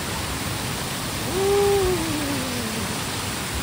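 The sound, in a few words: Langboku waterfall rushing water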